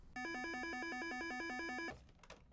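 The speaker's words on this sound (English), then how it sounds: "Just before 6:30 a.m., the phones start ringing." A telephone ringing in the morning, one continuous electronic trill lasting nearly two seconds, then a brief clatter of softer noises as it stops.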